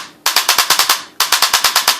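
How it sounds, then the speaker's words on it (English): A Tippmann A5 paintball marker with an electronic trigger fires two fast bursts of sharp, loud, close pops, about nine and eight shots in quick even rhythm. "when you pull the trigger back and forward, it fires"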